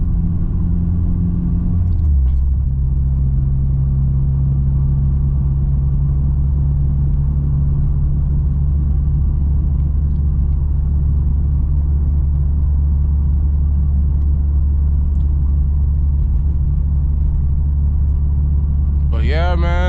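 A tuned 600hp Honda Civic Si pulls hard on a street. After a brief drop in pitch early on, a loud, deep engine rumble holds steady for the rest of the run.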